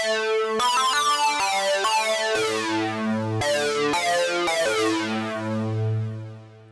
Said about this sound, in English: Today I'm going to show you how to create a sync lead that sounds like this.